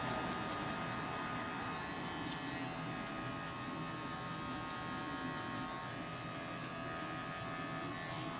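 Electric barber hair clippers buzz steadily and quietly up close while cutting a high taper, a constant motor hum with no speech.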